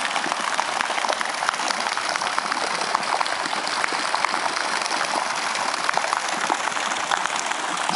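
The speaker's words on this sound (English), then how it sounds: "This is just one type of water feature that we can do that's tied in with the pool system" Laminar water jets arc into a pool water feature, landing in a continuous, even splashing patter that stays close and steady throughout, with no talk.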